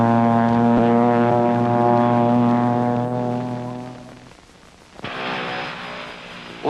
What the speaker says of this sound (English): This turboprop creation is a Pilatus Porter.